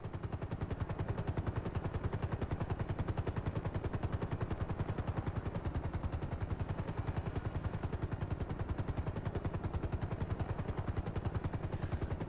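A helicopter flies in Grand Theft Auto V, its rotor beating in a fast, even, loud pulse that runs unbroken and alone for the whole stretch.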